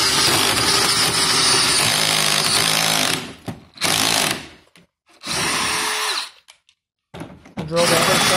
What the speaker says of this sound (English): Drill the other side.